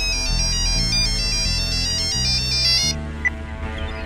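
A phone ringtone plays loudly and steadily as a bright, repeating electronic melody over a low backing, then cuts off near the end, leaving a quieter room with a small click.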